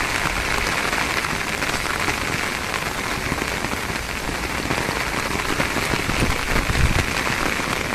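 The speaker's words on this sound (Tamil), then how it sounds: "அடித்து ஊற்றிட்டுங்க மழை பயங்கரமான மழைங்க" Heavy rain pours down continuously in a dense, loud hiss with rapid drumming on surfaces, no pauses throughout.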